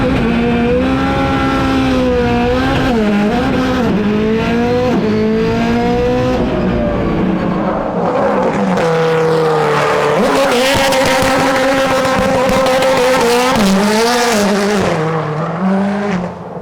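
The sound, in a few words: car revving and blasting down the straightaway, gymkhana launch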